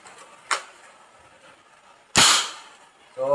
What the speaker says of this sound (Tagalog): So yan yung putok ng pag walang bala.